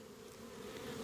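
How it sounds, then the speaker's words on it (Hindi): Honey bees buzzing steadily at the hive while the colony works, with the queen laying eggs and foragers bringing in pollen and honey; a dense, continuous close hum with no talk. "आप सब इसमें मधुमक्खियों को देख रहे हो कि अपने अपने काम पे लगी हुई हैं।"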